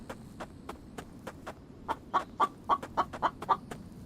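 Chicken clucking in a survival video game, set inside a rock wall near a chicken trap: a string of short, sharp clucks that quicken and grow louder in the second half, close by, over soft footstep-like taps.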